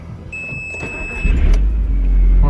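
An Audi TT Mk1, just fixed for a charge-pressure boost fault, with its engine running nearby; a steady rumble swells louder midway and holds, with a faint high electronic whine early on.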